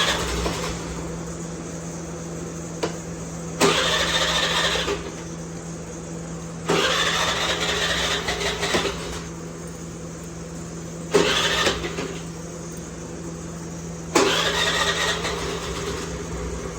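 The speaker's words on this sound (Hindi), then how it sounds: "मुझे गाड़ी चालू करके देखनी है कि ये ऑन है भी कि नहीं" A car that has sat unused for many days and is low on petrol cranks over in four separate loud starting attempts, each a few seconds long, with a quieter steady hum between them.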